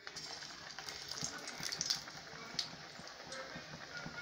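Chickpea (white channa) bonda made with bread drops into hot oil and fries with a faint, steady crackling sizzle, with light scattered pops and no talking.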